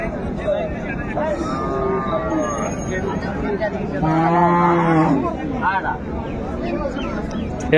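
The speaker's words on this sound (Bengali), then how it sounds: "চমৎকার গাভী বাছুর আমরা দেখছিলাম, সুন্দর মানের" A cow and calf at a village cattle market lowing, with several drawn-out moos, one long and loud near the middle, amid crowd murmur and nearby talk.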